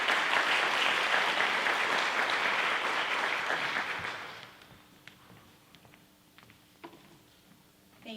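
Audience applause for a guest speaker at the close of a talk on raising children in a digital world. Dense, loud clapping holds for about four seconds, then thins into scattered claps and fades to near quiet.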